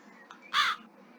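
A raven in the video game Tales of the Black Death gives a single sharp, raspy caw, close and clear over a quiet ambient game background.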